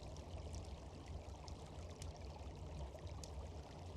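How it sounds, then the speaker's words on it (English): Flowing water pours and streams steadily in the background of a quiet night scene, a continuous soft trickling wash that stays faint throughout, with no voices. "the sound of the water in the background"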